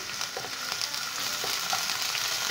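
Chana dal and urad dal fry in hot oil, a continuous, close crackling sizzle with small pops and occasional faint stirring.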